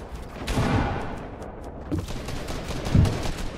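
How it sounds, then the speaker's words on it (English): Rapid turret gunfire in a food-fight video game, a dense continuous rattle of shots with a few heavier bursts standing out over roughly four seconds. "Protect me, I have the holy turret."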